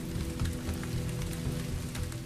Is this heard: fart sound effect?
no